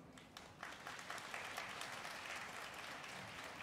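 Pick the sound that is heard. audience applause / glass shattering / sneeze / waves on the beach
audience applause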